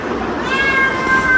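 A house cat meows up close, a loud, drawn-out cry lasting over a second with no other sound around it.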